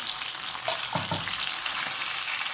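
Chopped tomatoes fry in a pan with browned onions for Punjabi-style chole, giving a constant bright hiss with a couple of clunking stirs near the middle, close and without talk.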